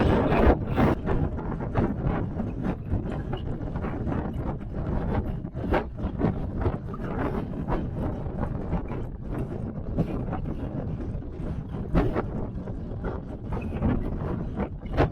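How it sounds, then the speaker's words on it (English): Gusty, cold wind on Franconia Ridge in New Hampshire buffets the microphone throughout, a rough, rumbling roar with irregular thumps, loud and constant with no voices. "Very cold and windy right now."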